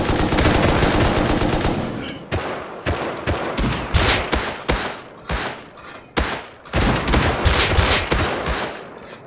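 Rapid automatic gunfire from scientist enemies in the game Rust rattles out in loud bursts, separated by short gaps and irregular single shots, close and sharp with no talking.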